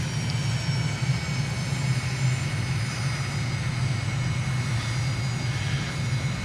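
Steady low drone of a simulated aircraft engine throttled back during descent in Microsoft Flight Simulator, a continuous even hum with no speech.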